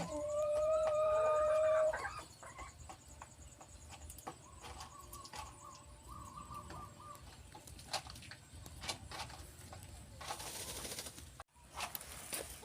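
Chickens in a coop, a loud drawn-out cluck or squawk at the start followed by quieter scattered clucks, scratching and rustling, with a few sharp knocks and a burst of noise near the end.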